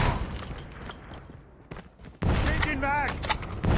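Gunshots in Call of Duty Mobile, a few sharp shots and booms amid game noise, with a voice talking over the action.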